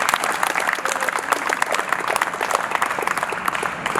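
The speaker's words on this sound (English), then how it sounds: "give yourself a round of applause" A crowd of convention attendees claps loudly and steadily for volunteers, the sharp overlapping hand claps forming a sustained burst of applause close by.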